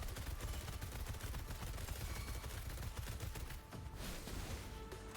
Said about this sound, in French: Et là, je peux tirer toutes les balles que j'ai